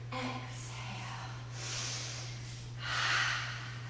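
Audible exhales during a barre exercise: two soft, breathy airy rushes spaced a second or so apart over a low steady hum, close and fairly quiet.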